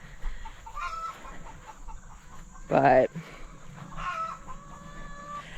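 Caged hens cluck and squawk nearby, with one loud, sharp burst in the middle among softer scattered clucks, and a voice speaking briefly.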